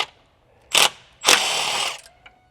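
A ratchet with a deep socket works on a G37 car intake while fitting a Z1 ported intake kit: a short burst of close, loud clicking, then a longer, steady run of rapid ratcheting, with no talk.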